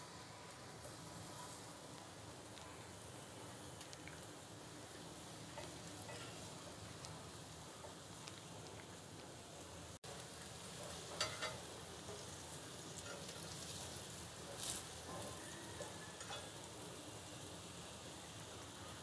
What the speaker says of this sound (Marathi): दुसरी बाजू ह्याची भाजून घ्यायची